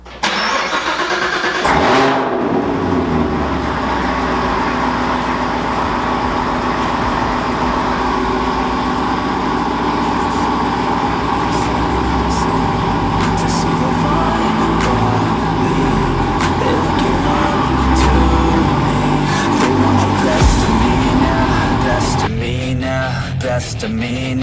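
A 6th generation Camaro starts up with a sharp burst and then drives, its mid-pitched engine droning steadily and close for a long stretch, with music playing over it.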